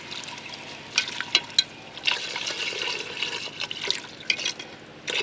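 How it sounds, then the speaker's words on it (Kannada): Water is poured into a pot while cooking, a steady close splashing with scattered sharper drips and clinks running through the whole stretch, with no talk over it. "ಅಲ್ಲಿಗೆ ನೀರು ಹಾಕಬೇಕು"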